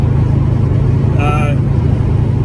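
Subaru Forester driving on a test drive, a loud steady engine and road drone throughout with a short tonal whine in the middle, and a voice speaking over it.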